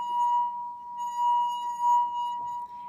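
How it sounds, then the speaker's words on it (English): A hand circles the rim of a wine glass, drawing out a steady, clear ringing tone that holds for a few seconds at close range. "We were running our hand across the top of wine glasses"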